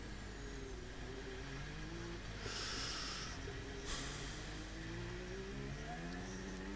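Max Verstappen's Formula 1 car braking during qualifying at the 2023 Belgian Grand Prix, heard as a steady engine drone with falling pitch sweeps and a brief hiss, moderately loud with no talk.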